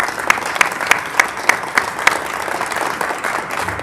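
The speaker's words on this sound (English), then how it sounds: "we're going to give you an initial round of applause" An audience at a freshman award ceremony breaks into applause. Bright, distinct hand claps repeat in a quick, irregular rhythm for a few seconds, with a fuller crowd clapping underneath.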